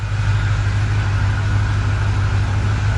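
A Holden ute with a 5.0L V8 idles steadily close by, a deep rumbling pulse with a constant level and no revving across the few seconds.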